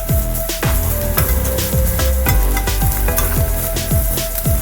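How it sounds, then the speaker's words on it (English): Garlic frying in hot oil for a horse gram rasam, a loud close sizzle with quick repeated stirring scrapes against the pan in a regular rhythm, no voices. "Just stir it until the raw smell of garlic goes off."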